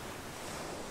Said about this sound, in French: Vent violent.